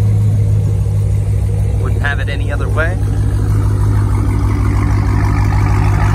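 A car with LED lights, black wheels, Brembo brakes and Daytona stripe badging idles with a steady low engine rumble throughout, while someone talks over it.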